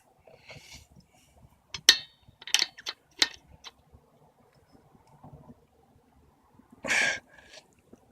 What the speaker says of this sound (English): I gotta tighten that nut up